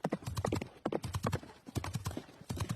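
Horse hooves clip-clop in a quick, steady, rhythmic stream of close, fairly quiet knocks, with a brief pause midway before the footfalls continue.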